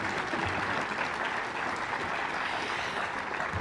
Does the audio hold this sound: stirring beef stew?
no